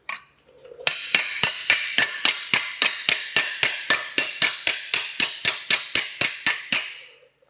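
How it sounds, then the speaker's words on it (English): Rapid, evenly spaced metallic strikes, about twenty bright ringing hammer blows on rusty metal in a steady rhythm, close and loud. "start banging it or chip at it with a hammer."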